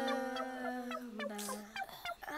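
A voice imitates a hen clucking in a children's cartoon, giving a short run of quick, choppy clucks over about two seconds, fairly faint.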